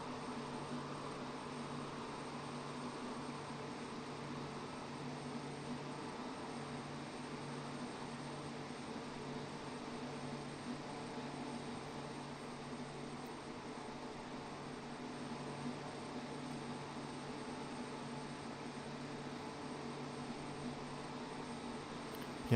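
A Pilatus PC-12 turboprop heard from inside in flight gives a steady, even engine drone with constant broadband rush for the whole stretch and no talking.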